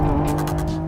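A Lamborghini Revuelto's V12 engine holds a steady, loud, close mechanical drone with a strong low hum and buzzy overtones, unbroken for under a second.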